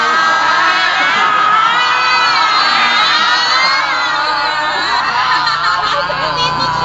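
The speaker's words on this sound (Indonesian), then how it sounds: "Seperti itu teriaknya." A group of people shouts loudly together as a throat exercise at a broadcasting and journalism training session, a sustained, dense wall of raised voices that holds steady for several seconds.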